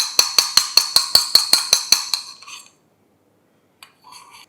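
A homemade face wash mixture is beaten in a bowl, about a dozen quick, evenly spaced clinks of a utensil against the bowl, then silence and a faint final scrape.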